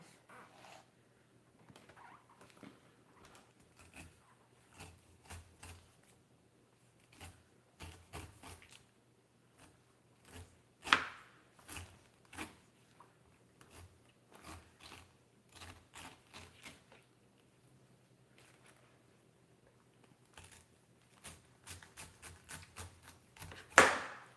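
A knife slices through pineapple in a run of sharp, irregular taps and chops, close and fairly quiet, with a louder burst of rapid cuts at the end.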